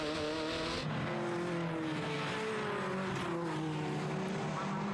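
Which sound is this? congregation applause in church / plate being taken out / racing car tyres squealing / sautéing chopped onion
racing car tyres squealing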